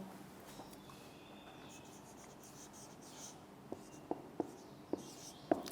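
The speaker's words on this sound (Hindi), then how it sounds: "मैं लिख भी देता हूँ।" Chalk or a marker taps and scratches on a classroom board as words are written by hand, in a few sharp, separate strokes toward the end over quiet room hiss.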